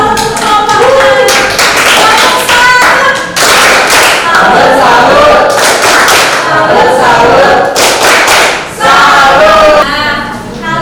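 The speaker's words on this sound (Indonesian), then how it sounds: "Beri tepuk tangan untuk kelompok ini." A classroom of students applauds a presenting group after a physics lesson on Archimedes' principle, a loud, dense wash of clapping lasting about eleven seconds with thuds and voices mixed in.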